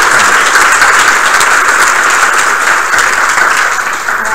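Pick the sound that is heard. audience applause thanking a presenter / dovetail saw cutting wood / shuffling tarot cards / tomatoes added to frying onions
audience applause thanking a presenter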